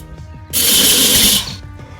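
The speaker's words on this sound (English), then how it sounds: "He's just gonna have to start drilling it." A power drill bores a hole during assembly of a temperature controller, giving one close, loud whirring burst of about a second that starts abruptly and cuts off, with quiet handling noises before and after.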